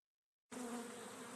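Bees buzz steadily in a dense, continuous hum that begins abruptly after a moment of silence and holds at an even level, close and fairly faint.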